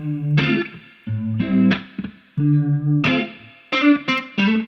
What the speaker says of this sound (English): here we have electric guitars called loops.